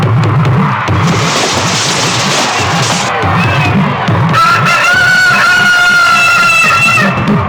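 A rooster crows loudly during a cockfight scene in the Telugu action film Palanati Brahmanaidu, its drawn-out call rising over a cheering crowd and rhythmic clucking and flapping close by.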